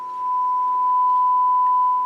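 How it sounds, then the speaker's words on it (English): A steady, pure 1 kHz sine test tone fed into a Teac A-2300S tape deck's line inputs, loud and unbroken, with a faint low hum underneath. "I'm running a 1 kilohertz sine wave into both left and right inputs"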